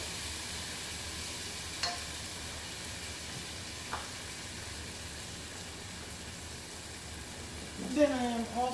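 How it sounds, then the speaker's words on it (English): Green seasoning added to hot oil for Jamaican curry chicken sizzles softly and steadily, with a couple of faint clicks and a louder stir near the end. "To the oil, I'm going to add some more of my green seasoning, about a tablespoon."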